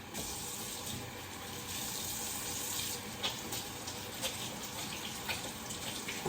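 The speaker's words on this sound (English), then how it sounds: "I'll just rinse and chop up the vegetables" Tap water runs steadily into a kitchen sink while vegetables are rinsed beneath it, a continuous close, even splashing hiss with no pauses.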